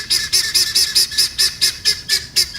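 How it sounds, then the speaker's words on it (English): Guinea fowl calling in a steady series of about ten harsh, metallic, rhythmic cries, close and loud with no other sounds. "Guinea fowl."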